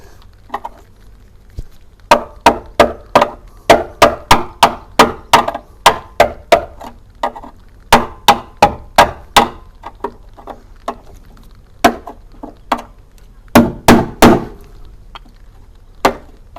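Sharp metallic blows from a hammer on a car's inner wing panel ring out in uneven bursts, some quick runs of strikes and some spaced single hits, loud and close with no voices.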